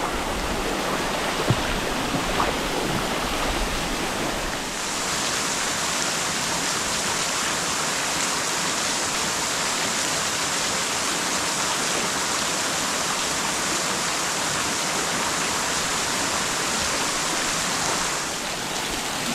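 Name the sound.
small waterfall on a hiking trail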